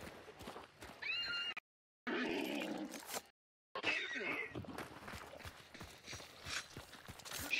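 A horse in the video game Hunt: Showdown whinnies loudly and clip-clops nearby, with brief gaps of silence and no talking.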